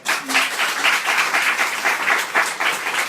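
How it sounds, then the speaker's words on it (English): Audience applause at a Formula E race event in Hong Kong, a steady dense burst of many hands clapping close by, sustained for the full stretch with slight swells. "A round of applause to our men, all right?"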